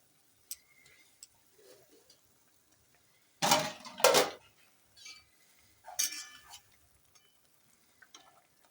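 Fish pieces go into a boiling fish curry with a few splashy bursts and scraping stirs, close and intermittent amid quiet stretches and small utensil clicks.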